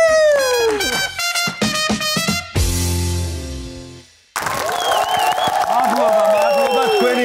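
Audience applause and cheering in a studio game show, a dense clapping wash with whoops, breaking off briefly, then resuming loud and sustained, with music playing alongside.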